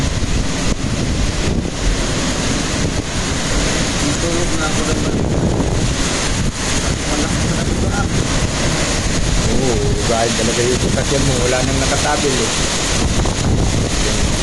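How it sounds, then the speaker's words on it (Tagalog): Strong storm wind from Typhoon Uwan roars without letup and buffets the microphone, a dense, loud rushing throughout while someone talks over it. "Ang lakas ng hangin"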